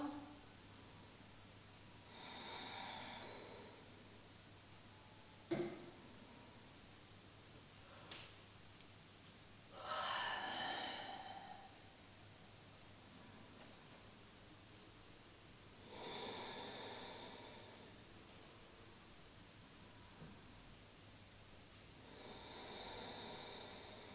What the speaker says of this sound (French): Encore 5 grandes respirations.